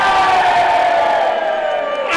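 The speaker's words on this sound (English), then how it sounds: "And what an extraordinary crowd!" A large crowd cheers and whoops at the Hammersmith finish line of a Sport Relief sofa challenge, a steady loud roar of voices.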